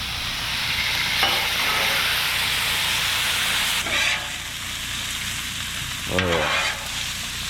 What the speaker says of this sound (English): You can smell that bacon sizzling away.